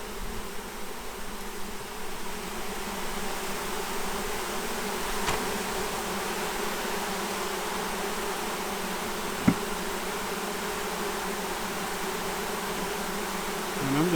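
Package honeybees being installed into a hive buzz in a steady, dense drone close by, continuous throughout with a couple of faint knocks, and no voices.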